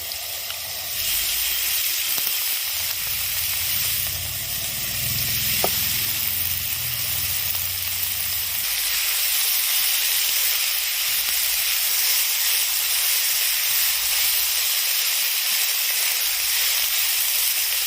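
Squeezed banana stem fries in a pan, giving off a loud, continuous hiss and sizzle that holds steady from start to finish.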